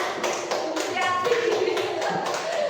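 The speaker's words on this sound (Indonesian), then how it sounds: "tepuk tangan." A small group of teachers clapping at a training session, distinct individual hand claps in an uneven rhythm, fairly close, with some voices murmuring alongside.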